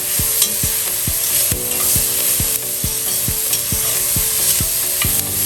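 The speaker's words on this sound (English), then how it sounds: "Another good stir. Combine everything together." A spoon stirs carrot ginger chicken noodle stew in a pot, making loud, close, rhythmic knocks against the pot roughly every half second over a constant sizzling hiss, with no voices.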